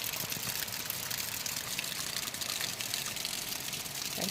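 Heavy rain pours down in a dense, unbroken hiss that stays steady and loud throughout, with no voices over it.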